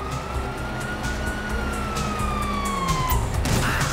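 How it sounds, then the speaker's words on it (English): Police sirens in Grand Theft Auto 5 wail steadily over a low engine rumble, the rising and falling tones carrying through with a few thuds toward the end. "Hear that? Sirens!"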